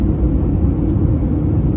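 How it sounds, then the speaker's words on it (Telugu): Steady, loud low-pitched drone of a passenger airplane cabin in flight, a continuous engine and airflow rumble with no breaks and no talking. "విమానంలో ఉన్నప్పుడు సౌండ్ కూడా ఎలా వస్తుందో ఉండాలని"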